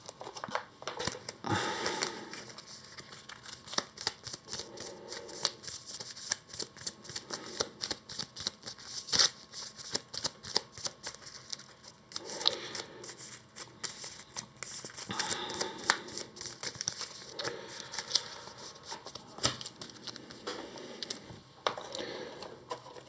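Cards from the Valley deck of the Earthborne Rangers board game are shuffled by hand in repeated riffling bursts with short pauses, close and crisp, with no talking.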